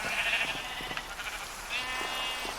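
Sheep bleat twice in a video game, with soft background noise between the calls, and no talking.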